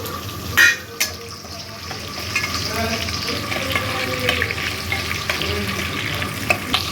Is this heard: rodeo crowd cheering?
no